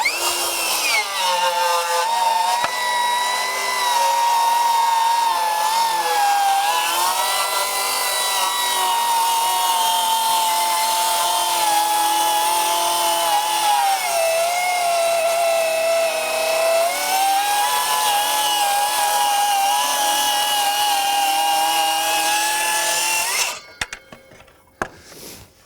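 Metabo HPT MultiVolt C36 7-1/4-inch rear handle circular saw running on a 4 amp hour battery, cutting knotty wood at a 45-degree bevel: a loud, steady high-pitched whine holds for over twenty seconds, dipping slightly under load before cutting off abruptly.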